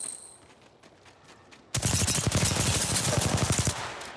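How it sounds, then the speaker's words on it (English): Sustained automatic rifle fire in a video game bursts in suddenly after a quiet moment, a loud, rapid rattle of shots continuing for a couple of seconds before easing off. "The enemies are shooting at me. Using rifle."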